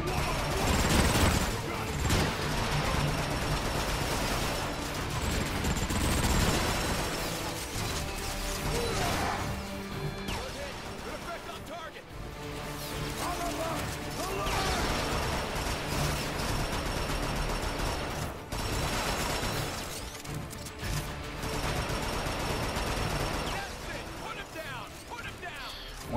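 Gunfire and crashing mechanical combat in the video game Transformers: Fall of Cybertron, dense continuous bursts of shots and impacts under game music, with a voice talking over much of it.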